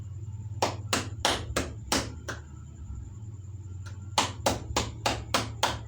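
Hand clapping done as an exercise: two sets of sharp, evenly spaced claps, about five in each, close and clear over a low hum, with a pause between sets.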